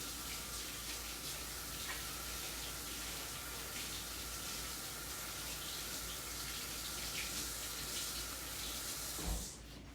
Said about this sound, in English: as soon as I wash my hands